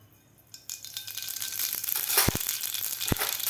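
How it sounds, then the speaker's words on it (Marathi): Mustard seeds dropped into hot oil start to splutter, building from quiet into dense crackling with sharp pops and a couple of loud snaps near the end, close up with no voices. "तेल आपलं गरम झालेलं आहे यामध्ये घालायची आपल्याला अर्धा चमचा मोहरी"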